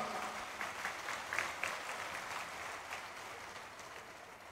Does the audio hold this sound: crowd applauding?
yes